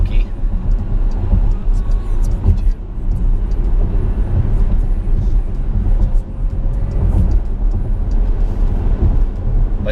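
The 3-liter V6 of a 2020 Porsche Cayenne Coupe drives along with a low, continuous rumble and road noise. It swells and dips slightly, with occasional bumps, and no clear talk sits over it.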